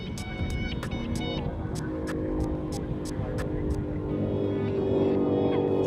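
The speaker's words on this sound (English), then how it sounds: "Many of these vehicles are capable of 200 miles an hour or more and run on a course that's 9 miles long." Race cars run on the salt flats course at Speed Week with a continuous engine roar at moderate distance. Sharp repeated ticking clicks sound over it, and the roar builds slightly louder toward the end.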